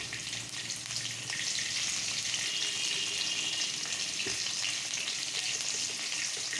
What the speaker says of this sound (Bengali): আলুটা আমি সুন্দর লাল লাল করে ভাজবো